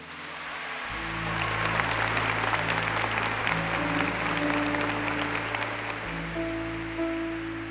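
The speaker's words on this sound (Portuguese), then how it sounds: "Uma salva de palmas para minha tia" A crowd claps steadily for several seconds, a dense, even patter of applause with a low hum underneath.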